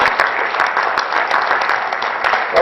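An audience in a school setting claps for fifth grade students, producing a steady, loud patter of many hands that continues evenly throughout.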